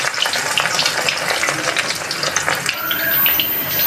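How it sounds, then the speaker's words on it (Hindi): Four beef koftas sizzle loudly in a frying pan, a dense, continuous crackle with stirring throughout and a slight drop in intensity near the end. "हमने इसको हिला के अच्छी तरह फ्राई कर लिया।"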